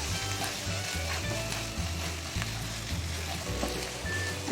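Spices frying over a low flame in a home kitchen pan for chicken vegetable spaghetti, a steady soft sizzle with a low rhythmic bubbling throb running throughout, fairly close and continuous with no talking.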